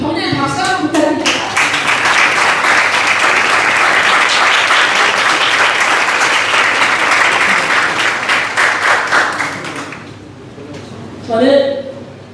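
Loud, sustained applause fills a hall at a People Power Party provincial chapter chairperson inauguration ceremony in Jeonbuk, steady clapping for about ten seconds before fading, followed by a brief spoken voice.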